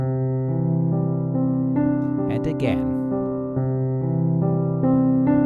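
Steady repeating piano chords in the low-middle register, changing every second or so, with a person briefly speaking over them midway.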